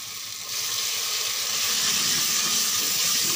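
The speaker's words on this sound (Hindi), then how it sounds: "थोड़ा पानी का छट्टा असी लावांगे इहदे अंदर।" A splash of water hits a hot cooking pot of spiced food and sets off a loud, steady hiss and sizzle that carries on without a break.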